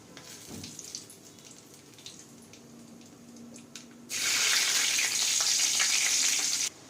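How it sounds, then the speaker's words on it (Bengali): Nigella seeds and green chillies dropped into hot oil left from frying fish burst into a loud, steady sizzle partway through, after a quieter stretch of faint kitchen noise, then stop abruptly. "এবার তেলের মধ্যে দিয়ে দেবো কালো জিরে ফোড়ন আর কাঁচা লঙ্কা"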